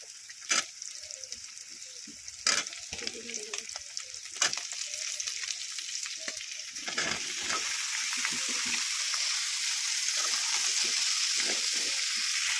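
Pumpkin and prawns fry in a pan for a Bengali dish, with steady sizzling and a few sharp clinks and scrapes. The frying grows louder and denser toward the end as ingredients go in.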